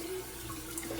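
Hot water runs steadily from a kitchen tap into a sink during dishwashing, a constant close hiss and splash with no talking.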